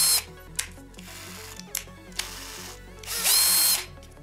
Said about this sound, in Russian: Это в режиме сверления.